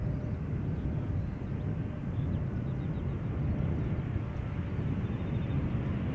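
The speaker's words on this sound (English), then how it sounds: "This is KLM Flight 1088, arriving from Cardiff." KLM passenger airliner on arrival at Amsterdam Schiphol Airport, a steady broad low rumble of jet engines holding at an even level throughout, with no audible talk.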